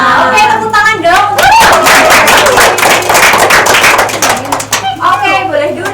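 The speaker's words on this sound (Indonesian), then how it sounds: "Oke, tepuk tangan dong." A school class claps hands together during a maths lesson, a burst of loud crowded applause lasting a few seconds, with a teacher's voice speaking before and after.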